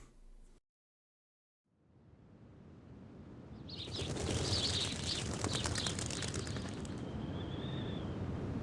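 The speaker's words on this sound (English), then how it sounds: "The sound of birds chirping fills the air." Birds chirp and twitter through a calm outdoor scene in the video game Reverse 1999, a steady layer of tweets rising after a brief silence and continuing with soft ambient background.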